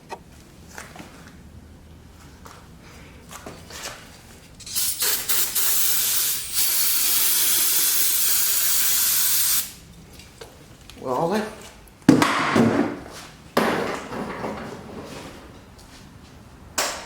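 Carb cleaner sprayed onto a stuck carburetor on a 1972 Suzuki TC125 salvage-yard motorcycle: a steady, loud aerosol hiss lasting about five seconds, followed by shorter bursts, with faint talk and handling noises around it.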